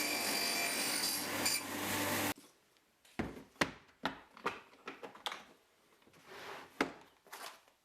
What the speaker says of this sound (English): what I'm doing here is cutting a rebate for the drawer base to slide into